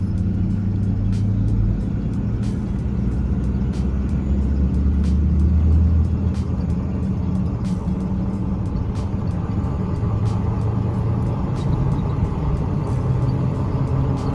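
A car with a rebuilt front end (front swap, new ball joints and wheel bearings) rolls along a road with a steady, close rumble of tires and engine and a few faint ticks, with no talk.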